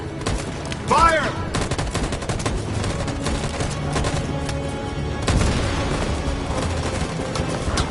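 Sustained gunfire in Detroit: Become Human, with a dense, rapid stream of shots and a few heavier booms. The firing stays loud throughout, with a whistling sound near the start.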